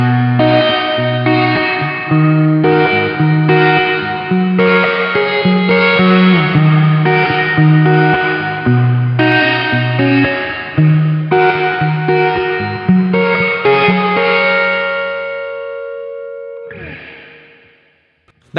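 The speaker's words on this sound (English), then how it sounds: "plate's going to be a really bright sounding, kind of a more harsh reverb" Electric guitar chords ring out through a Sonicake pedal's plate reverb, bright and harsh, steady and loud, with the final chord's wash trailing off before a brief scrape.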